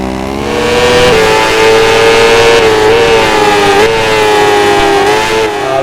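Motorcycle engines in the Moto GP 2013 racing game scream continuously at high revs, pitch rising and dipping through gear changes, loud and alone.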